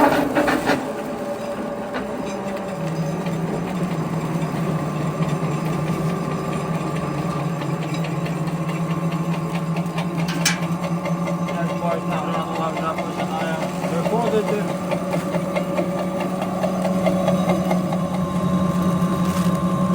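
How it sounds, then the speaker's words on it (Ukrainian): A feed pellet mill with a 2 mm die runs as a continuous loud mechanical drone and hum with rattling, starting up and then holding steady, and speech can be heard over it. "включаємо гранулятор"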